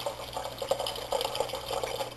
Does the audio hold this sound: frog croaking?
no